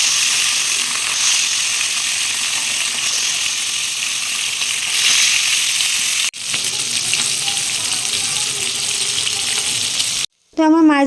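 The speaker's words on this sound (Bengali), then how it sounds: "তো আমার মাছ ভাজা হয়ে গেছে।" Fish frying in hot oil in a home kitchen: a loud, steady, hissing sizzle runs continuously, briefly dipping once, then cutting off near the end just before a short burst of other sound.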